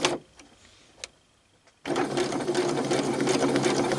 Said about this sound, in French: Dès que je vais toucher à ce bouton-là, ça va faire mon point d'arrêt.